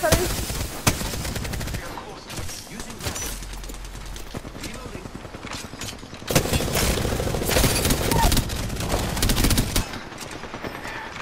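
Dense rapid gunfire from the video game Apex Legends, bursts of sharp automatic shots that ease off in the middle and then return loud, with a player talking over the action.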